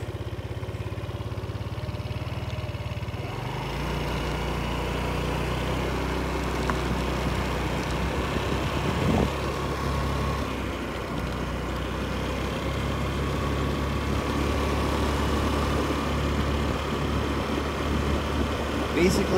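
A 150 cc scooter engine idles steadily with a low continuous rumble throughout, fairly loud and close, with a slight shift in tone near the start.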